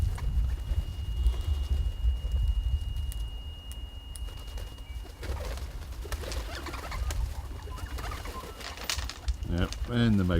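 Pigeons or doves cooing around a bird feeding spot at Loch Sport, soft low calls over rustling and shuffling, with a brief brighter bird call near the end and background noise throughout.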